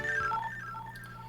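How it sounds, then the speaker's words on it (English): A phone timer alarm beeps in a short run of bright electronic tones, moderately loud over a steady low hum. "Sorry about the timer. That was my phone."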